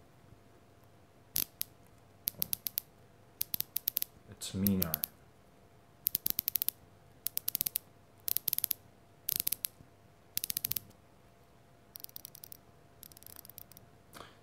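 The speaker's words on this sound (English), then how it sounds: "And now let's hear the bezel action on Pelagos." Seiko Pelagos dive watch bezel, 120-click, turned right by the mic in repeated bursts of sharp, dense ratcheting clicks, separated by short pauses, with a brief spoken remark partway through.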